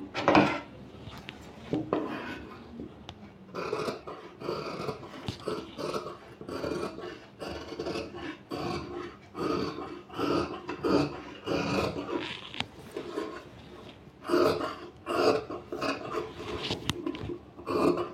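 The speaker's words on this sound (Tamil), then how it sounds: "இப்போ இதை அப்படியே கட் பண்ணி எடுத்துக்கலாம்" Scissors cutting through blouse lining fabric on a table, with repeated close snips and crisp slicing strokes in a steady, uneven rhythm, moderately loud and with no voice.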